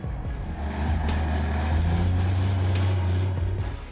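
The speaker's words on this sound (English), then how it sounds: "that blue truck keeps pushing forward" A blue truck drives through deep puddles and thick mud, its engine droning low and steady, with a few sharp bursts of hiss or splashing over the rumble.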